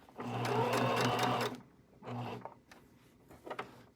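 Sewing machine stitching fabric in a short close burst of fast rhythmic whirring, then a second brief run, followed by quiet clicks and handling noises as the presser foot and needle are adjusted.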